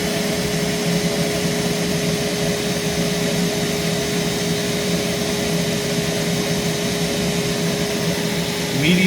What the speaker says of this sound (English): So let's start it off on low speed. Just the suction motor.